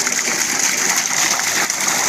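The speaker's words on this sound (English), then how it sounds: "I can let water out. It has a force, guys." Water gushing hard from a fish pond drainage pipe, a loud, steady, hissing torrent that continues without a break, close by.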